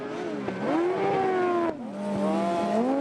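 Speedway bikes at wide-open throttle on a dirt oval during a final-lap race, a loud, close engine roar with rising and falling pitch and one sharp break midway before the snarl resumes.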